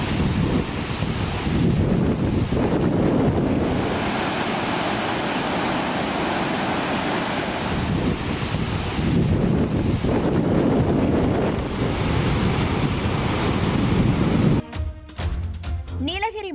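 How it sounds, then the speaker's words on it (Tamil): Floodwater from surplus release at Pykara dam in the Nilgiris roars over a waterfall as a loud, continuous broadband rush, steady for most of the clip, with wind buffeting the microphone and a brief break near the end. "நீர்வீழ்ச்சியில் தண்ணீர் ஆர்ப்பரித்து செல்வதை சுற்றுலா பயணிகள் கண்டு ரசித்தனர்"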